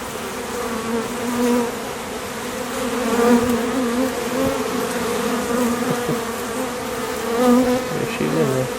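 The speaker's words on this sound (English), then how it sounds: "So many bees there." A swarm of honeybees drones loudly and continuously at close range as they are removed from a house soffit in Harahan, the buzzing rising and falling in waves with no speech.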